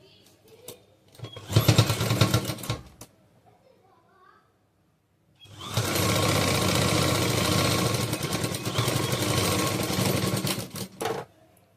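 An overlock sewing machine stitches saree fabric being converted into an umbrella churidar: a short close burst of loud mechanical whirring, a pause, then a longer steady run of the motor before it stops.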